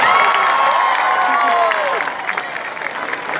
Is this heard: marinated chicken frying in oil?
no